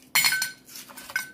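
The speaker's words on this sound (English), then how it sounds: "oh, yeah, I have my ice cubes" Ice cubes clink against a glass in a few quick bright taps, close and fairly quiet, separated by brief pauses with no talking.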